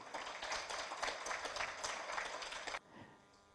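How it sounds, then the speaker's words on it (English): Audience applause at a clean energy technology seminar, a dense burst of clapping from many hands that holds steady for nearly three seconds, then cuts off abruptly into quiet room tone. "Let's put our hands together, give him a round of applause."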